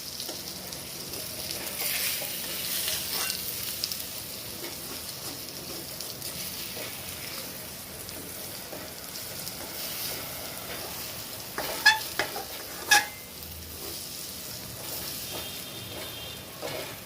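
Eggs frying whole in a pan after being flipped, a steady soft sizzle throughout with a couple of brief louder clinks near the end, no voices.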